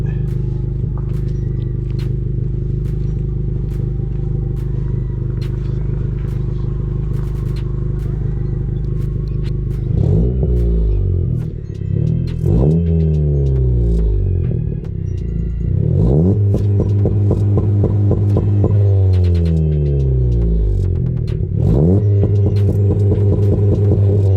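A modified 10th-generation Honda Civic Si engine idles steadily outdoors, then revs repeatedly with rising and falling sweeps, loud and close.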